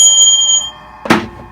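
A single struck elephant bell from India rings with a bright, sustained metallic tone that fades, followed by a second sharp jingle near the end.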